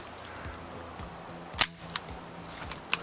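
A vintage Daisy air pistol fires a BB with a sharp, close snap, followed by a couple of fainter clicks and a second crisp pop near the end, against a quiet background.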